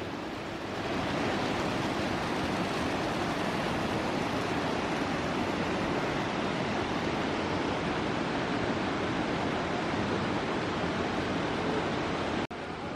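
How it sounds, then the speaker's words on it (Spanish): Waterfall and rushing water at Puerto Blest pour in a steady, dense roar that holds evenly throughout with no voices over it. "Siempre escuchar el agua es placentero."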